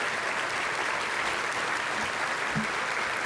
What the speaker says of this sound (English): Let's give a huge, huge round of applause.